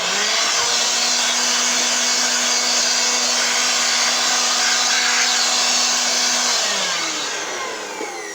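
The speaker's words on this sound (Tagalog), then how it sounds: "Bubumbahan natin ng blower yan." A blower drives a loud, steady whoosh of air through a window-type air conditioner being cleaned, holding constant for most of the stretch with a faint hum beneath before easing off near the end.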